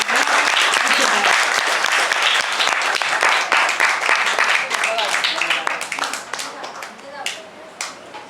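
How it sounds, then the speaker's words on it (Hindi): Audience applause fills a hall after a speech at a summer camp event, loud and dense clapping that holds steady for several seconds before thinning out and fading toward the end. "एक बार अपने लिए जोर से जरूर ताली बजाएं"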